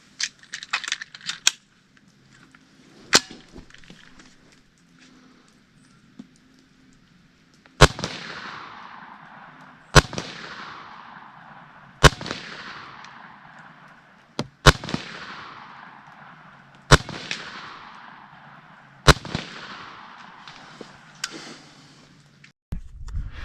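A B&W S45 semi-automatic PCP big bore air rifle fires a series of sharp, loud cracks outdoors, about eight shots spaced a couple of seconds apart, each followed by a brief echoing decay.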